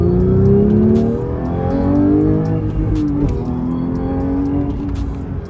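A Porsche 911 GT3 in second gear and sport mode, its engine revving loudly up and down in repeated rising and falling sweeps as it rev-matches through shifts, heard close with no talk.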